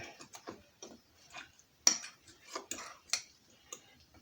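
Stromboli filling ingredients being stirred together in a bowl, irregular soft taps and scrapes of a utensil against the dish, quiet and close with gaps between strokes.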